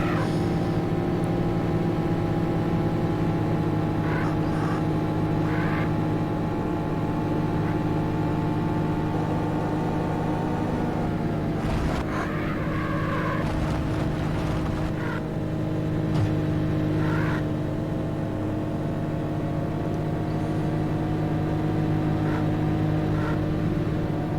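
Race car in the 1995 PC game Need For Speed, its engine droning steadily and loudly throughout with shifts in pitch as it accelerates and holds speed, with brief clatters partway through.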